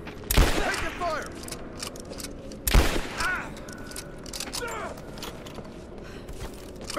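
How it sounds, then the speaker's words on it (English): Gunfire in the video game Rise of the Tomb Raider: two loud shots a couple of seconds apart, each followed by ringing echoes and mechanical clatter, over a steady busy background of distant combat noise and occasional voices. "Laying down, covering fire!"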